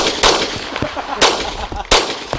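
Loud, sharp pistol shots from a Wilson Combat handgun at an outdoor carry trainer class range, three cracks spaced about a second apart with echo after each.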